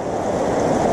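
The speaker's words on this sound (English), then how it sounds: "look at the speed of that water going down through there" Fast creek water rushing beneath a tall old bridge in South Carolina makes a steady, dense roar, close and loud for a brief moment with no voices.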